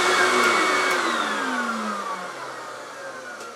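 Camvac multi-motor dust collection unit winding down, a loud broadband motor roar with a falling whine that drops steadily in pitch and volume over a few seconds, heard alone.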